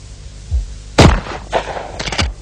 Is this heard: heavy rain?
no